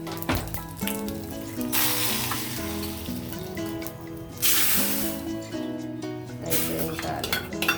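Hot tempering poured into cooked dal in a home kitchen for a dal and amaranth greens dish, giving loud bursts of sizzling and crackling with clinking pot sounds, two strong surges of spitting oil close by.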